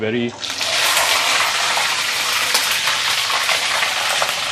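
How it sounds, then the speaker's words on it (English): Noodles for Maggie mee goreng hit hot oil in a wok, a loud sudden burst of steady crackling, hissing splatter that stays intense and close throughout. "it's going to be like this, really splattering around, and you want to run away after you put it in"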